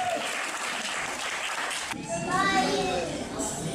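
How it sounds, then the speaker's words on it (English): An audience claps steadily for about two seconds, then the applause cuts off and children's voices chatter and call out over a noisy room. "let's give them a round of applause"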